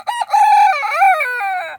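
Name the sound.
rooster crowing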